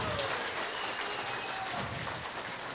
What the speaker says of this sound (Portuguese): Uma grande salva de palmas para Jesus.